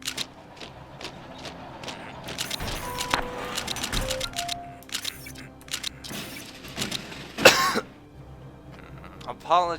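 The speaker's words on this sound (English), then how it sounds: "Apologies, I think I may have just coughed." A man coughs and clears his throat over a mix of background clatter and game sounds, with one sharp, louder burst near the end.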